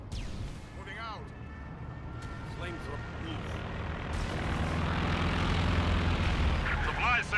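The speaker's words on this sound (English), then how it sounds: "Do you hear that? Their plane!" An enemy plane in the Company of Heroes 2 video game roars overhead, its engine noise swelling louder toward the end, mixed with battlefield sounds and bird-like chirps.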